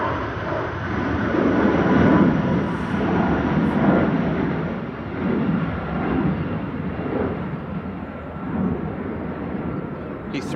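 British Airways Airbus A319 jet at a gusty Manchester Airport, a broad rumbling engine roar that swells and fades over several seconds, mixed with wind buffeting; no clear speech.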